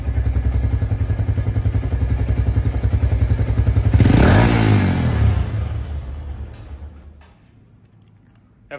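A TVS Metro Plus motorcycle with 2100 km on it idles close up with a steady rapid chug, gives one sharp rev and clatter midway, then winds down and cuts out, leaving near silence.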